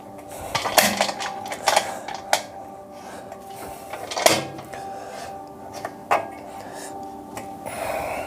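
Clamp bolts on a resin casting pressure pot are tightened, giving a series of distinct metallic clicks and ratcheting clanks spaced a second or so apart, close and fairly loud.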